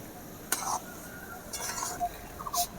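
A spoon stirs food colour into a sabudana laddu mixture in a metal pan or bowl: sharp clinks and scrapes of the utensil against the vessel come in short bursts, fairly close, with no talk.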